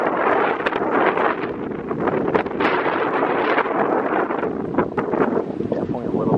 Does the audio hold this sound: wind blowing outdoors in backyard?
yes